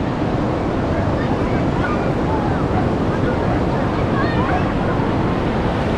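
Ocean waves and wind at a sparsely visited English beach, a steady, loud wash of surf with constant wind rumble on the microphone and no break throughout.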